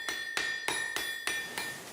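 A 300 kg water-powered hydraulic hammer strikes iron in a steady rhythm of about seven ringing metallic blows in two seconds, each impact loud and clangy with a lingering tone between strikes.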